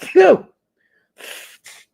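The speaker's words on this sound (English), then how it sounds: "That was called sneezing." A person sneezes close to the microphone during a live watch-along of a US vs New Caledonia U20 World Cup match: a short voiced catch of breath, a pause, then two breathy, hissing bursts.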